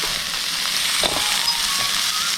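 Steady, close sizzling of lyngra, a wild fern vegetable, frying in a hot pan, a dense crackling hiss with a few soft stirring knocks, no voices.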